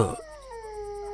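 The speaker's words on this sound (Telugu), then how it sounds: "కుక్క ఏదో" A dog makes a brief, strange drawn-out whining growl, faint and fairly close, with no talking.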